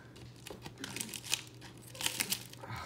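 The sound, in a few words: crinkling bubble foil mailer packaging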